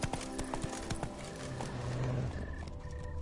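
Geralt's horse Roach galloping in The Witcher 3: Blood and Wine, steady rapid hoofbeats close and clear over a low rumbling background, slowing slightly toward the end.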